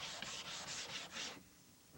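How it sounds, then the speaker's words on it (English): Hand sanding of wood with a sanding block and aluminum oxide paper, worked along the grain: six quick rhythmic rasping back-and-forth strokes, close and fairly soft, then the scratching stops. "you always sand in the direction of the grain, and you should always use a sanding block of some sort"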